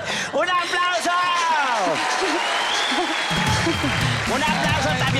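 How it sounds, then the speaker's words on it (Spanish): Studio audience applause on a Colombian television show after a nativity-themed challenge, sustained clapping running throughout beneath a presenter's voice and brief melodic vocal sounds. "¡Un aplauso!"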